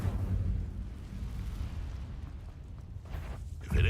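An Incendio fire spell in Hogwarts Legacy erupts with a rumbling, explosive whoosh that holds for a few seconds and surges again at the end; no voices.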